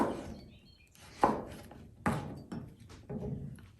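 Four sharp knife chops cut dried reishi mushroom on a cutting board, spaced unevenly with brief pauses between, close and moderately loud with no talking.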